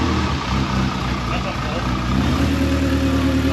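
A Lexus IS200 race car engine runs steadily at a loud, continuous drone with a low rumble and strong harmonics throughout, and nothing else breaks through.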